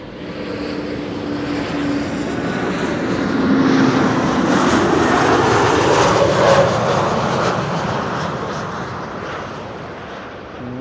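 A KLM Embraer 190 jet arriving at Amsterdam Schiphol on a flight from Luxembourg, its broad engine roar swelling to a loud peak midway as it passes close, then easing off while still steady, with no talk over it.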